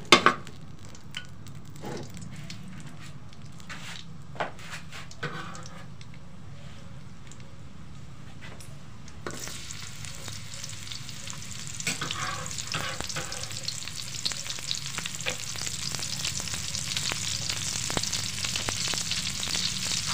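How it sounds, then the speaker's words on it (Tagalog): Onion and garlic sautéing in a pan for a tofu and pork dish with vegetables, with a soft sizzle at first and occasional stirring clicks, then a louder, denser frying hiss that builds and holds. "So ngayon po magigisa po tayo. Lagay po tayo ng sibuyas at saka bawang."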